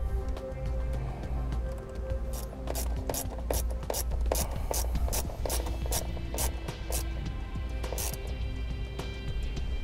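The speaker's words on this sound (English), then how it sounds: "So now we're going to go ahead and remove the nut." A ratchet clicks in quick repeated bursts while removing a nut during a trailer wiring install on a 2013 Dodge Charger, close and fairly quiet.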